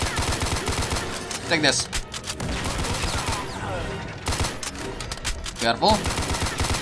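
Bursts of rapid gunfire from the Wolfenstein/Doom mod Blade of Agony, with machine-gun volleys and single shots in several loud clusters and brief pauses between them, while someone talks briefly over the action.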